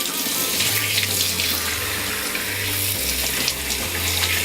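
Tap water gushing steadily into a sink while intestines are rinsed clean, a close, continuous splashing flow with low gurgling pulses and no talking.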